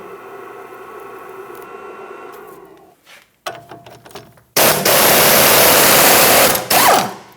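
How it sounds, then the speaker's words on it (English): Induction heater warming a seized top strut bolt during front strut and spring replacement on a 2008-2013 Nissan Rogue, giving a loud steady electronic whine and hiss that starts abruptly, runs several seconds and cuts off briefly near the end. "I'm going to heat mine up with induction heat."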